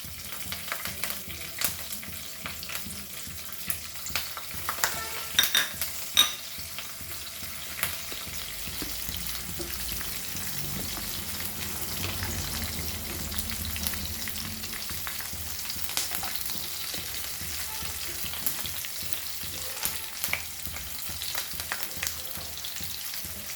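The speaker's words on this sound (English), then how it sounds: "And we'll add this all 3 and fry." Crab xacuti curry ingredients fry in a pan for Goan rock crabs, with a steady, close sizzle and occasional stirring scrapes running throughout, no voices.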